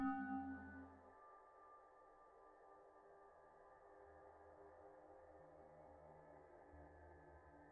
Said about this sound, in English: I'm sorry about all this noise. There's a waterfall of signal distortion.